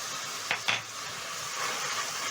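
Red onions, green onions, garlic and ginger stirred in a hot pan for beef liver stew, two quick scraping stirs early on, then a steady low sizzle, close up with no talk.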